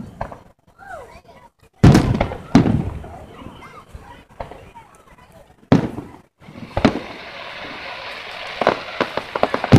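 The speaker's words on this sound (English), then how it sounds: "Yeah, the fireworks show is going on." Fireworks show at Waxahachie in 2015 with several loud, sharp explosions, each trailing into dense crackling and sizzling that grows into sustained crackle near the end, with voices faintly audible underneath.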